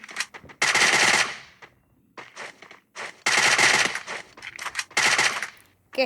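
Loud bursts of rapid machine gun fire from a video game, several long volleys separated by short pauses and a few single shots.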